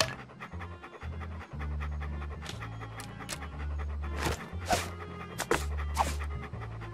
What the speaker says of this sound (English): Here, doggy doggy.